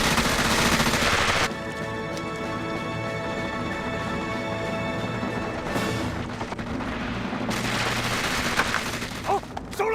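Dense battlefield gunfire in a war film set during the Sino-Japanese War, with continuous overlapping rifle and machine-gun bursts and heavier thuds, loud and sustained throughout with no pause.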